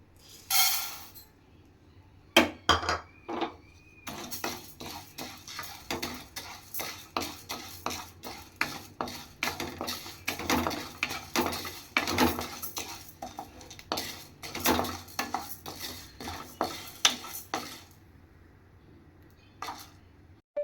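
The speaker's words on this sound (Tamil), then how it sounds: "இப்போ துவரம்பருப்பு போட்டு வறுக்கணும்." Toor dal dry roasting in a pan for Andhra paruppu podi, a spoon scraping and stirring the dry lentils in quick repeated clinks and rattles, close and moderately loud, no sizzle.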